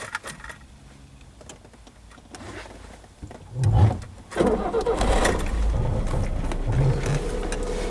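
Keys jingle, then the engine of a Polonez Caro Plus car cranks and catches, settling into a steady, close idle.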